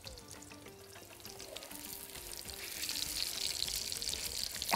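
Potato kofta frying in a pan makes a soft, crackling oil sizzle that grows steadily louder and brighter toward the end, with no talking.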